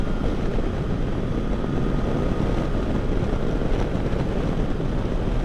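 Steady roaring wind rushes around the rider's helmet behind a Powerbronze touring windscreen on a 2022 Triumph Tiger Sport 660, a loud continuous buffet under faint engine drone, with no talk.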